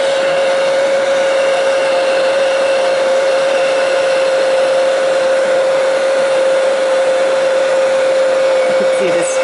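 Hair dryer drying weathered wood crackle medium paint, a loud continuous close-up whir with a steady tonal hum and broadband airflow rush throughout, no talking.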